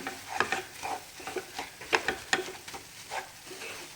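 Mysore pak mixture hits hot ghee and sizzles, with crackling bubbles and repeated stirring scrapes in an uneven rhythm, close and moderately loud.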